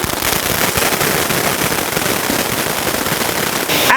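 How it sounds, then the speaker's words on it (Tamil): Android-brand firecracker bursting into a dense, continuous crackling barrage that stays loud and steady for about four seconds, with a brief whistling streak at the very end. "இந்த வருஷம் வந்திருக்க புது பட்டாசு ஆண்ட்ராய்டு"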